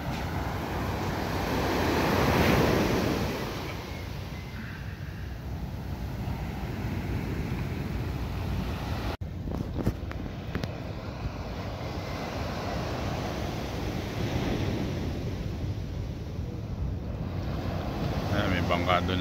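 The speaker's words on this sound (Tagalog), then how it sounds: "medyo lumiit-liit na ng konti ang alon kasi sa dati." Sea waves, fairly small, wash and roll continuously with a broad, breathy roar near fishing boats, wind buffeting the microphone and swelling louder near the start.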